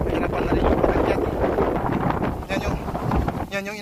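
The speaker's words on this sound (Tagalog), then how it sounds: "Grabe ang hangin dito." Strong, steady wind buffets the microphone near the top of Mt. Batulao in Batangas, a loud continuous roar with gusts that dip briefly before a short final burst.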